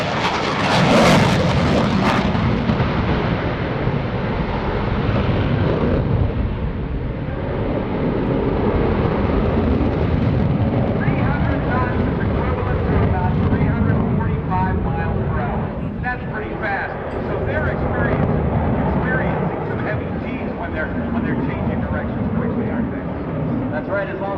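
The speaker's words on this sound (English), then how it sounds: "Now we heard some real noise." An F/A-18F Super Hornet jet at an airshow roars past at just under 300 knots with a sharp blast at the start, then a sustained rumbling roar that slowly trails off, with talking underneath.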